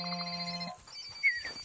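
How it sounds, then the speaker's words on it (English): Telephones ring in theHunter: Call of the Wild, with a short electronic ring of steady tones that stops abruptly, leaving faint ambient game sound. "Can you hear the phones ringing?"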